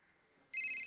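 A phone ringtone sounds suddenly after a quiet moment and stays loud and close, a steady electronic ring with no voices over it.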